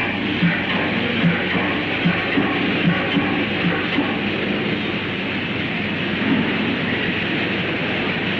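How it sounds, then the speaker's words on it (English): Steady rumble of a train rolling in, with faint rhythmic clatter of wheels on track throughout and no voices. "Tell me quickly, does this train stop at Nice?"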